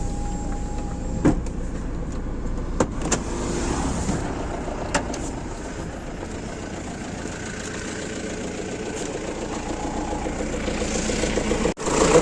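A Mahindra Scorpio with an overheating problem sits stopped after a 25 km drive, its engine idling with the radiator fan blowing hard, a steady mid-level whir and hum with a few sharp clicks and knocks throughout.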